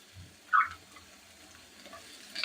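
Onions and curry leaves frying in a pan with crushed ginger, garlic and green chilli for a Kerala-style kingfish biryani. A soft, close sizzle runs throughout, with a brief scrape of stirring near the start and again at the end.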